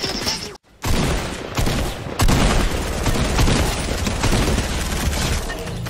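Rapid, heavy bursts of golden-gun fire in Fortnite, loud and near, forming an almost unbroken fusillade with a short silent gap early on and booming impacts throughout.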